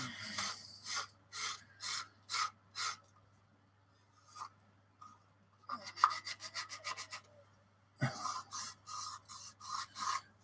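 Rhythmic rasping strokes of a file working a slightly misaligned seam on a plastic Airfix 1/24 Spitfire Mk Vb fuselage, close and fairly quiet, in short bursts separated by pauses, with no talk.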